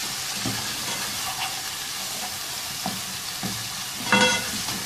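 Spiced potatoes sizzling in a karahi with red chilli and turmeric powder, a constant loud frying hiss with occasional spoon scrapes and one louder clatter near the end.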